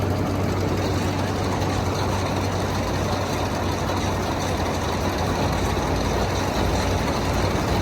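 A combine harvester's diesel engine runs steadily nearby, a loud, dense low rumble with broadband roar that holds constant throughout, with no talk.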